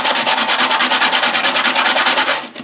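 A silver nugget is sanded by hand with 100 grit sandpaper, a loud close rasping in fast regular strokes, about ten per second, stopping abruptly at the end.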